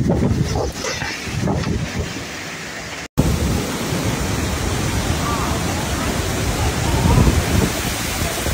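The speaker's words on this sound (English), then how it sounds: "A brutal storm hit Lake Balaton" A thunderstorm lashes Lake Balaton in Hungary with a dense, continuous roar of heavy rain and gusting wind, broken by one brief cut, then swelling again without any distinct thunderclap.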